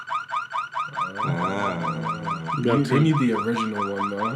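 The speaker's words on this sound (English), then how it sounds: "And then they got a car alarm." A car alarm loops through a rapid warbling, siren-like pattern, loud and steady, while people talk over it.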